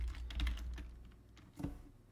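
Light typing on a computer keyboard while entering data commands, a quiet cluster of soft clicks followed by a pause and a single key tap, close and alone without talk.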